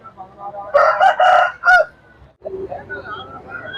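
Roosters crow loudly and close by at a rooster market in Mecheri, several overlapping calls in quick succession, followed by clucking and lower bird sounds with some faint voices in the background.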